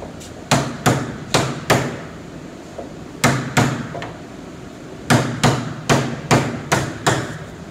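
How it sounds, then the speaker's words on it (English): Hammer driving thin wire brads into a wooden door frame with knots: bursts of four sharp, close blows with short pauses between them, then a final run of about six quick strikes. "when you have a knot like this, try to avoid nailing straight into it"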